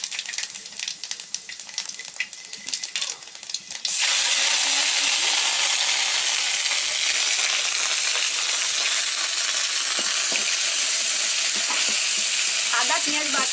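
Panch phoron spices hit hot oil for a fish curry, bursting into a loud, steady broadband sizzle after a few seconds of quieter crackling and stirring, holding strong to the end with occasional pops.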